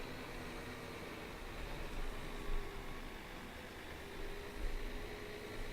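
A big agricultural vehicle from Farming Simulator 17 rumbles past in a steady broadband drone, its low engine noise swelling slightly twice as it goes by, with no talk over it.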